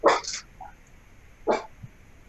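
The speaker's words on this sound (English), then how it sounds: "my dog's gonna bark because sounds like my husband just came" A household dog barks twice, two loud sharp bursts close by with a pause between, followed by a faint short yip, in a quiet kitchen.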